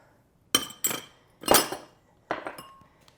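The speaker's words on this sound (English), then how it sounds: "I'm just gonna give it a little stir" Utensil stirring Kung Pao chicken in a cooking pot: four separate short bursts of scraping and clinking metal against the pot, close and moderately loud, with quiet pauses between them.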